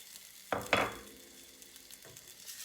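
Freshly cut ginger frying briefly in sesame oil, a soft sizzle with two quick scraping stirs early on and a lighter one later, close but fairly quiet.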